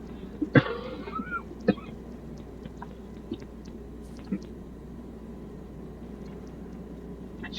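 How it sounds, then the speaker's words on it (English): A single sharp cough near the start, then a second smaller one, over a low steady background hum with faint clicks and rustles. "Excuse me, little cough there."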